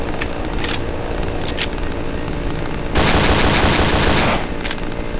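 Automatic gunfire in the horror video game Cry of Fear, a loud sustained burst of rapid shots lasting over a second, preceded by a few short sharp shots over a steady game background.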